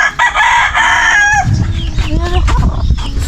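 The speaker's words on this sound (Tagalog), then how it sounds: "So yung mga manok na din po ni Francis ay inaisa-isa na po na dinidala dito" A rooster crows loudly and close, a drawn-out harmonic call, followed by clucking and squawking chickens with thumps and shuffling around them.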